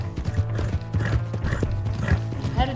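A horse's hooves pound rhythmically at a fast gallop in the video game Red Dead Redemption II, loud and close, with light tack rattling and a brief whinny-like sound near the end.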